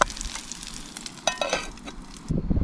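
Morels and stinging nettles steaming in butter in a pan outdoors, a steady hissing sizzle with brief crackles and a soft clatter near the end.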